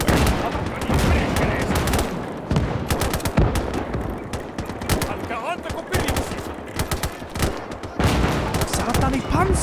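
K-32 machine gun in the video game Gates of Hell firing on Soviet infantry in a forest, dense bursts of rapid automatic fire with other gunshots around, loud and continuous with some voices mixed in.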